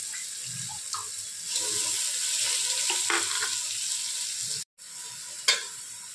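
Ration rice being stirred in a hot pan while making a spinach palav, a steady sizzling frying hiss with soft scraping stirs and a brief clatter near the end.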